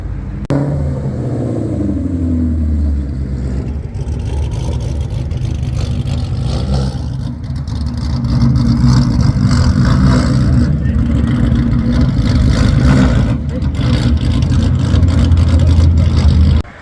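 Engines of supercars and other sports cars rumble and rev steadily as they roll into a Saturday car meet, a continuous loud low drone that swells louder midway, with someone talking over it.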